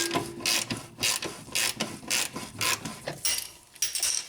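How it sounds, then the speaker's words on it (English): A hand ratchet clicking steadily as it loosens a bolt on a Honda Civic rear trailing arm, with repeated rapid pawl clicks in quick bursts, close and clear, with no voices. "just put my ratchet on there"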